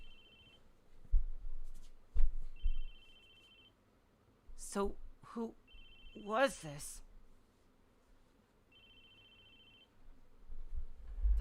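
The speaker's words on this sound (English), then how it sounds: "The phone kept on ringing persistently." A telephone rings persistently in the Chaos;Head NoaH visual novel, its thin electronic trill repeating in evenly spaced bursts while someone speaks and a few clicks and bumps sound in between.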